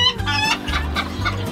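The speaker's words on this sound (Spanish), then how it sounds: "Más que chulada de gallo, de 4 años." A four-year-old show rooster at a breeding farm clucks and calls in a rapid series of harmonic bursts, close and loud with no talking.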